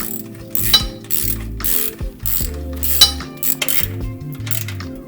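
A ratchet clicks in several quick bursts as it tightens the exhaust nut on an MXP Comp RS jet ski exhaust, close by in a quiet workspace.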